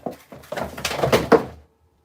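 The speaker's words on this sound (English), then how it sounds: "Did you see me literally just knock over half my shelf then?" Several items are knocked off a shelf indoors, making a quick cluster of clattering thumps and knocks that build over about a second and then stop, close and fairly loud, with no talk.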